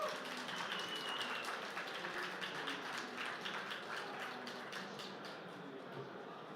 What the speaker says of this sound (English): Another round of applause for Renee.